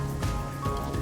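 Steady rainfall in the video game Master Detective Archives: RAIN CODE, a constant soft patter on surfaces, moderately quiet and unbroken.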